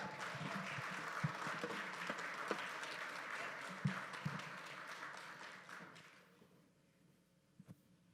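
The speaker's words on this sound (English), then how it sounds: "So please give a round of applause for Emmy Award-winning broadcaster Sharon Reed." Event audience at The Best Man 20th anniversary fireside chat applauding for the moderator, a dense patter of clapping with a few louder individual claps that tapers off near the end, leaving a few stray claps.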